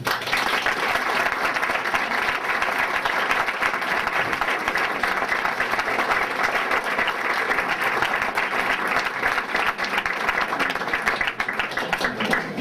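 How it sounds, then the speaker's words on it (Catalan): A crowd applauds the giants of Prats de Lluçanès during the Sant Vicenç festa major proclamation, dense sustained clapping holding at an even level throughout. "que ara es mereixen un gran aplaudiment"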